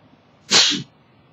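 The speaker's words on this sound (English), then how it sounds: "about to sneeze" A single sharp sneeze bursts out, close and fairly loud, in an otherwise quiet moment.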